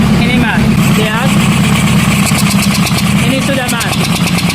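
A motorcycle fitted with a car engine runs with its number four cylinder deactivated, a loud, close, steady engine drone beneath continuous talking.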